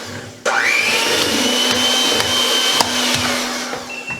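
An electric mixer whirs into almond flour chocolate chip cookie dough, starting abruptly and then holding a loud, steady motor drone with slight shifts in pitch as it works.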